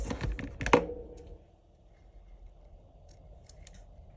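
Scissors snip off excess material from a handmade vintage-style ornament, a quick close cluster of sharp crisp cuts at the start, then near quiet with a few faint clicks.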